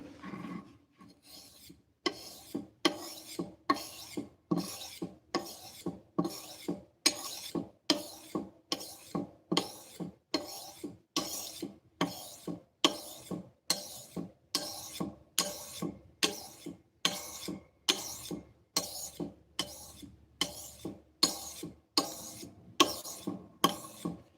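A steel blade is stroked rhythmically across a 3,000 grit whetstone, about one rasping pass per second for over twenty seconds, soft, close and steady, with no voices.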